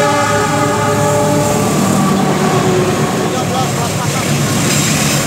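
A loud coal freight train hauled by a CC 206 locomotive rumbles past close by in Indonesia, a continuous heavy roar of wagons with a sustained horn-like drone over the rolling noise.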